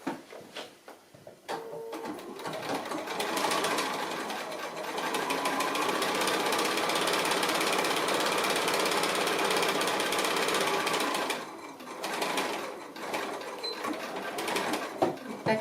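A sewing machine stitches a fabric pocket a quarter inch from the edge, running steadily and loudly for about ten seconds, pausing briefly, then making a few short bursts toward the end; no talking.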